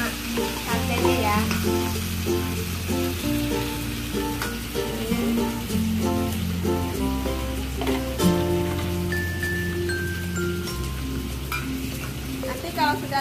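Eggs and sardines frying in a hot wok, giving a steady crackling sizzle that runs throughout beneath prominent background music.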